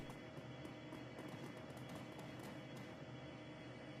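A train in the video game Shadowrun Dragonfall gives off a steady, dense rumble that holds at an even level throughout, with no speech over it.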